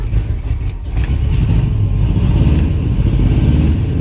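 A 1975 International 200 pickup, found sitting in a field, runs with a loud, close, rough engine idle whose rumble swells slightly after the first second and then holds steady.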